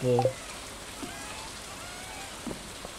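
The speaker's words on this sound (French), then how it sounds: "Ah bah oui, il pleut" Rain falling in the farming video game Stardew Valley, a soft steady patter throughout, opening with a brief tonal chime and a few faint clicks.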